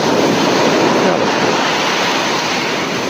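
Ocean waves sound effect, a continuous loud wash of surf that roars steadily without a break and with no voices.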